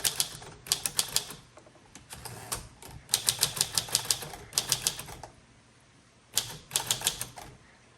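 Typing on a 1935 Corona Silent manual typewriter, bursts of close, crisp keystrokes in quick rhythmic runs with short pauses between.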